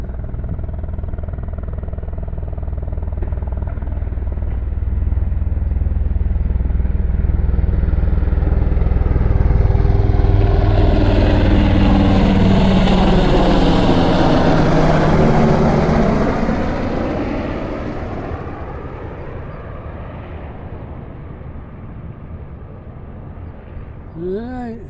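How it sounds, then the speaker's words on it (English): A military helicopter closes in, roars low and loud directly overhead with heavy rotor thumping, then fades away, heard from a downtown street. "good up close shot of a helicopter, military helicopter. They're noisy."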